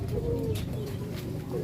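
Pigeons coo softly during bath time, low murmuring coos close by against faint background noise.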